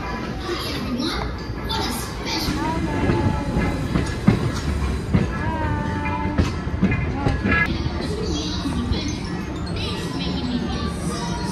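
A Thomas the Tank Engine themed passenger train pulling into a station, a dense continuous rumble of rolling cars with faint clatter and squeals, no clear talk.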